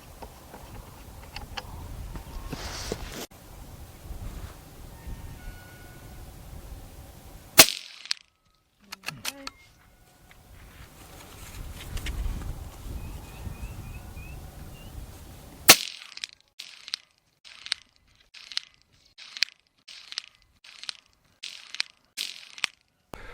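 A .22 Magnum rimfire rifle fires with its muzzle brake removed, giving a string of sharp, evenly spaced cracks near the end, preceded by a few isolated shots amid outdoor background noise.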